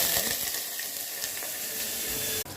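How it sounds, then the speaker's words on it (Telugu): Tempering seeds and chana dal sizzle in hot oil inside a pressure cooker, a bright continuous hiss with faint crackles that cuts off abruptly near the end. "ఆయిల్ వేసుకొని తాలింపు గింజలు వేసేసుకొని కొద్దిగా శనగపప్పు వేసుకోవాలి."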